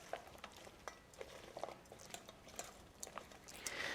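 Green peppers being tossed with a fermented soybean paste dressing in a bowl: soft, wet, irregular squelching and clicking strokes at close range, fairly quiet.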